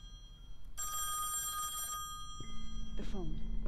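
A telephone rings in the Song of Horror horror video game, a clear electronic ringing burst lasting about a second over a low ambient drone, followed by a brief sweeping tone.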